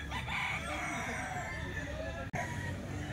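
Grey roosters for sale crowing amid steady background noise, the calls fairly faint and drawn out, with a brief dropout partway through.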